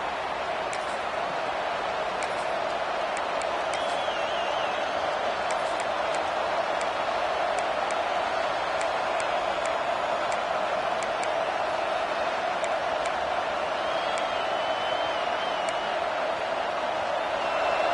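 A home crowd at a college football game roars steadily and continuously, a dense wall of cheering that holds at an even level throughout.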